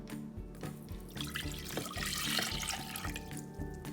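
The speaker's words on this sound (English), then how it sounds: "So we're gonna pour 2 cups of water into a big bowl." Warm water from the sink, two cups' worth, is poured from a measuring cup into a big bowl, making a continuous nearby splashing and trickling that swells mid-pour and then eases.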